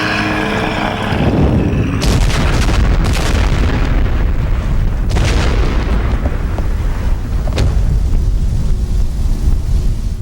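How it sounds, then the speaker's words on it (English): Loud, booming explosions from a horror film rumble continuously, a shack blowing up, with several sharp blasts and crackling debris layered over a heavy low roar. "The shack explosion is here,"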